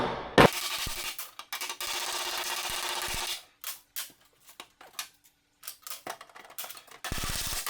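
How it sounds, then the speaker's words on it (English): Sharp metallic hammer blows from a rounded hammer working a car body panel, in irregular bursts of rapid taps and single strikes with short pauses between. "rounded hammer action down here."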